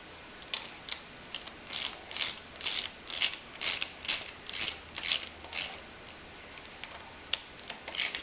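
Bolts snugged against a shim pack during assembly of a V-Max engine, heard as a string of close, rhythmic ratcheting clicks repeating steadily for several seconds in a quiet workshop.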